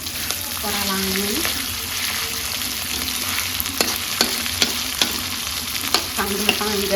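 Spice paste sizzles and fries steadily in a hot pan, the constant hiss broken by repeated sharp scrapes and clacks of a spatula stirring, close and loud.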